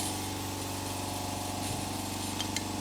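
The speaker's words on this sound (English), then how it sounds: "and then run the engine" A vehicle engine idles steadily during a diesel particulate filter (DPF) cleaning, giving a continuous close, even hum with no breaks.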